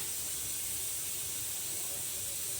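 A pressure cooker with a faulty safety valve lets out a continuous, loud, steady steam hiss up close, unbroken throughout.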